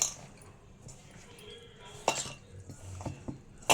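Mustard powder and fenugreek powder being mixed into pieces in a bowl: soft, quiet scraping and stirring with a few sharp utensil clinks near the end.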